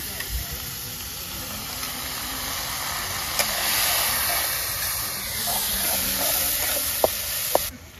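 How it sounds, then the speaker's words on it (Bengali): Onions frying in a pan over an outdoor cooking fire, a steady hiss and sizzle running throughout with a few sharp clicks near the end, mid-distance and fairly loud. "পেঁয়াজ ভাজা হয়ে গেছে"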